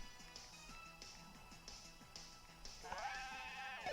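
A Mudbray, the donkey Pokémon, gives its cry in the video game Pokémon Moon, a bleating, goat-like call over looping game music that ends in a bright rising chime, played quietly with no talking.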